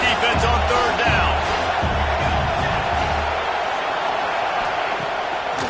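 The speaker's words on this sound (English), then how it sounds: "Decibels rising as the crowd gets behind this defense on third down." Stadium crowd at a football game roaring steadily through a third-down defensive stand, a dense, loud wash of cheering that holds for several seconds with scattered whoops and a commentator talking over it.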